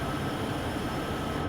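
A freight train hauled by four SD70ACE locomotives rumbles along in Train Sim World 4, a steady, loud, close drone of engines and rolling wheels with no pauses or voices.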